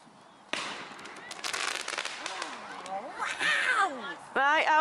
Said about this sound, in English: Right, how many more rockets have we got? Here we go, last rocket.